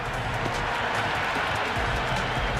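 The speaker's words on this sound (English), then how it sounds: "Will you listen to that crowd? They are loving this." Dense, steady stadium crowd roar and cheering in the Cricket 26 video game during an IPL match between LSG and DC, loud and continuous with no pauses or talk.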